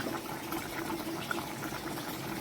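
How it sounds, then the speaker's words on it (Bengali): Curry bubbling in a cooking pot on a home stove, a steady, dense simmering hiss with a soft bubbling texture, continuous and close, with no talk. "দেখো তরকারিটা ফুটে গেছে"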